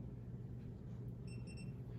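Total station surveying instrument beeping as it powers on, a short pair of clean electronic tones over a steady low hum, close and fairly quiet.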